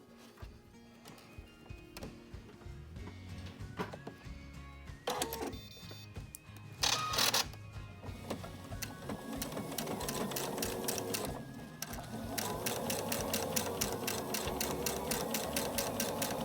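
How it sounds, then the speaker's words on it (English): A sewing machine runs a traditional seam on fabric, a steady mechanical whirring rattle up close with short pauses and restarts, growing more continuous toward the end. "Okay, so you're going to sew your traditional seam."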